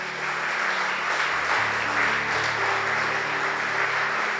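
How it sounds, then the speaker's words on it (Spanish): A church congregation breaks into loud, sustained applause, with a low, steady musical tone held underneath the dense clapping throughout. "¿Cuántos le dan un aplauso al Señor?"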